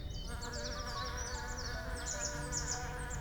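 A swarm of honeybees settles into a new hive, their dense, continuous buzzing close and steady throughout, with higher-pitched individual wings flitting over the low drone.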